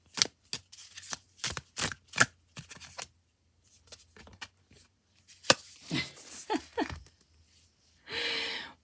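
Tarot cards shuffled and drawn at a reading, a run of crisp flicking riffles and slaps followed by softer sliding and a brief rustling burst at the end, close and clear with no talk.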